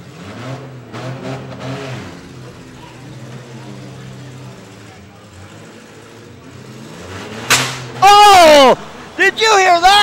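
Demolition derby cars at the 2009 Clinton County Fair: engines rumble and rev under commentary, then a sudden loud bang of a hit is followed by screaming, overloaded engine revs near the end.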